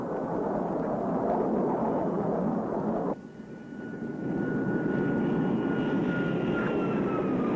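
Airplane engine drones steadily overhead as it flies in to land, a broad continuous roar that dips briefly, then swells back with a faint high whine layered on top.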